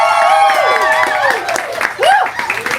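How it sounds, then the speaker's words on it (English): A live poetry show audience applauds with loud cheers and whoops, and voices rise and fall over the clapping throughout. "that's the loudest applause he ever got."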